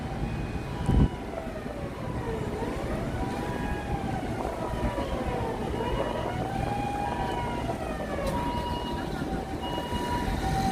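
A reverberant train station hum in Tokyo, Japan, with low rumble, sliding tonal whines like a moving train or announcement chime, and a brief knock near the start.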